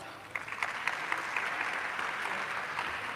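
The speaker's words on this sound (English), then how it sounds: "Give yourselves a round of applause" An audience at a Caribbean heritage celebration in Queens, New York, breaks into steady applause, a dense mid-distance patter of clapping with no voices over it.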